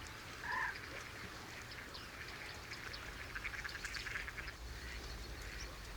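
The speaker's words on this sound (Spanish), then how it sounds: "especies comunes, como los ánades reales, unos asiduos visitantes de las lagunas españolas" Captive mallard ducks at a lagoon in the Villafáfila wetlands of Spain, a few faint quacks early on and then soft, scattered calls over a low outdoor background.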